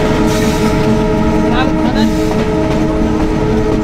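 A Rocket Mail passenger train hauled by a 6400 series diesel locomotive rolls along near Khulna with a loud, steady rumble and rattle. A horn blast rises briefly partway through, and voices can be heard beneath the din.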